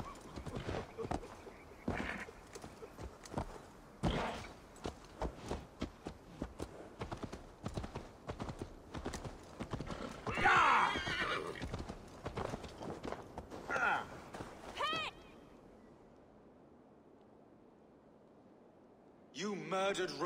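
Rhythmic hoof clip-clop of a horse walking in the video game Assassin's Creed Valhalla, steady and close, with scattered short game sound effects, then near silence before a brief burst at the end.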